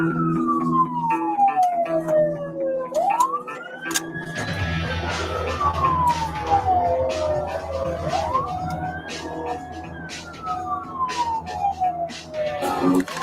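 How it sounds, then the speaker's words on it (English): A police car siren wails in long rising and falling sweeps, loud and fairly close, with a vehicle's engine rumbling underneath and no talking. "Running lights and sirens."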